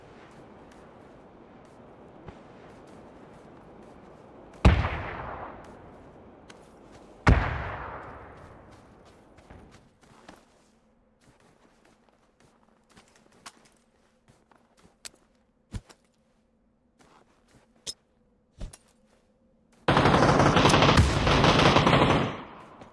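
Video game gunfire from enemies shooting each other some way off: two loud, sharp shots with ringing decay, then scattered faint pops, and finally a dense, sustained burst of rapid fire at the end.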